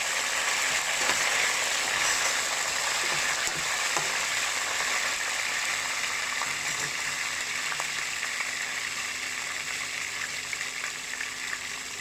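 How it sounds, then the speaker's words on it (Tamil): Green chilies and curry leaves sauté in a pan for a fish curry, making a loud, dense, continuous hiss and crackle that hardly varies, close and with no voices over it. "இப்போ பச்சை மிளகாய், கருவேப்பிலை கொஞ்சம் வதக்கி விடுங்க."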